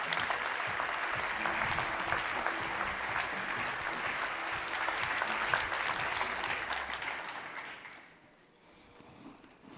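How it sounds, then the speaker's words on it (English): An audience at the Consumer Goods Forum gives a dense, sustained round of applause, loud and even for several seconds before fading out near the end. "Please do give them a really warm hand of applause."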